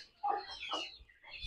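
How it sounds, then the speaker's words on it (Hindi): A broody hen gives a few soft, low clucks and throaty murmurs close by in a quiet, dim coop, short separated calls with pauses between. "हमारी एक और मुर्गी कुड़क हो गई है"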